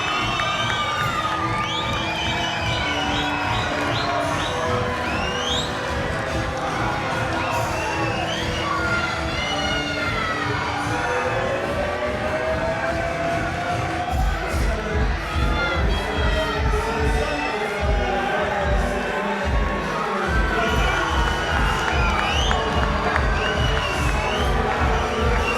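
A large boxing crowd cheers and shouts continuously as fighter Louie Muldowney makes his ring entrance, with a loud sustained roar and a heavy pulsing beat from the arena music underneath.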